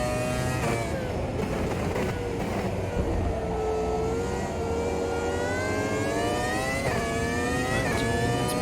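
Race car engines in the AMS2 sim racing game, a McLaren F1 MP4/12 at Daytona, produce a continuous high, whining roar with rising and shifting pitch as it catches slower cars, loud throughout with no talking.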